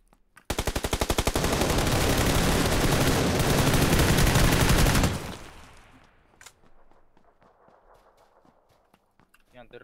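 Sustained rapid automatic gunfire aimed at the player in a video game rattles loudly for several seconds, then cuts off, leaving faint scattered clicks and footsteps.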